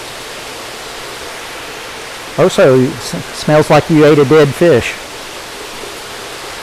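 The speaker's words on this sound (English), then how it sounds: "you see water flowing, and if you look at the side of that, you see that's some duckweed, algae, and calcium carbonate sheets from the water cascading down" Water cascades steadily down through backyard pond plumbing in a constant rushing hiss, with a person speaking briefly over it.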